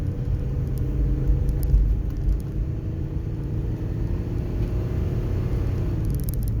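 A 2004 Ford Explorer climbs a hill in first gear, its engine giving a steady, loud, low rumble with a smooth whir heard from inside the cabin.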